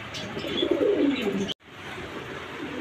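Fancy pigeons cooing in a loft where a male sits inside a clay nesting pot and a female waits outside, soft low murmuring coos rising and falling for a second and a half, then a brief cut and steady faint cooing continuing.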